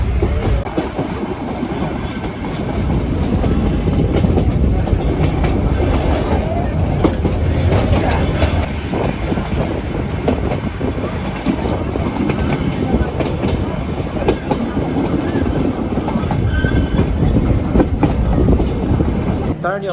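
Train ride through the hills at Ooty, with a steady loud rumble of carriages and rhythmic clickety-clack of wheels on rails, wind buffeting throughout, and faint voices now and then.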